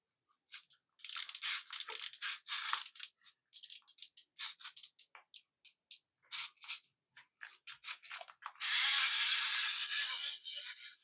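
A wind-up novelty pencil sharpener robot, its ratchet glued solid, walks along: rapid irregular clicking and ticking bursts of its mechanism, close and fairly quiet, ending in a steadier whirring buzz.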